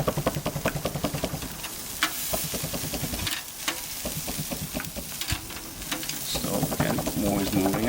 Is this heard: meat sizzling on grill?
yes